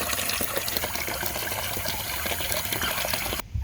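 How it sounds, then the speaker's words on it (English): Water rushes steadily from a garden hose during a water leak repair, a loud continuous splashing gush with small spattering bursts that stops abruptly near the end, followed by a brief low thump. "Time for the hose."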